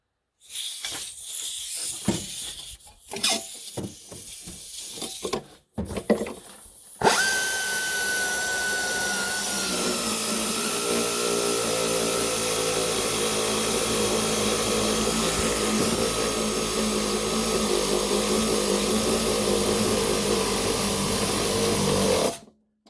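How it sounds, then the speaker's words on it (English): Pneumatic air ratchet working on the front strut of a 2004 Cadillac CTS: a few short bursts and rattles, then a long, loud, continuous whirring hiss of the air tool running close by. "I'm going to grab my air ratchet."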